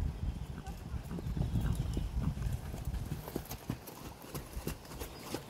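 A horse canters through a riding lesson, a steady three-beat clip-clop of hooves on soft ground at close range, continuous over several seconds with an instructor's voice faintly mixed in.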